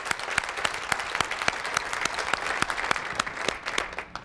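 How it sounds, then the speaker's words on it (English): Audience applause at a school superintendent's State of Schools address, a steady dense wash of clapping from a large crowd with scattered sharper individual claps, sustained throughout with no speech. "let's give them a round of applause"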